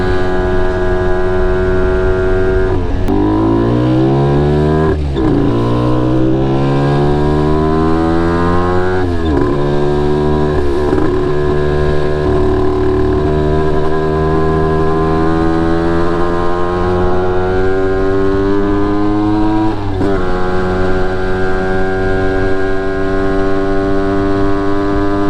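A 1987 Honda NSR50 two-stroke motorcycle engine climbing a hill, loud and close, revving up and down through several gear changes with a buzzing, rising and falling pitch that runs steadily throughout.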